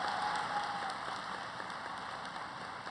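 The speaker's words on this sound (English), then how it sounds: "Could we just give them another round of applause to all these wonderful people?" Continuous, even applause from an audience at a student academic excellence awards ceremony, a dense, rain-like patter of many hands sustained without pause.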